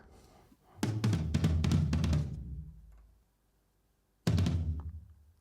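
Sampled replacement drum toms for a 2008 concert mix in Mexico, panned across the stereo field, heard as a fast descending tom fill, a pause, then another burst of deep tom hits.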